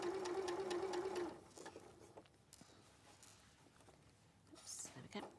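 A sewing machine stitches bias binding in a quick, steady whir for just over a second, then stops, followed by quiet handling rustles and soft talk.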